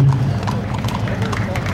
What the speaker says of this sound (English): 15 horses and riders.